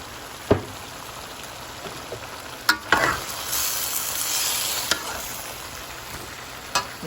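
Chicken pieces and boiled carrot stir-frying in a pan for a Chinese-style chicken dish: a gentle, steady hiss with a few isolated knocks and clicks of a spatula, one brief swell of sizzling midway, no speech.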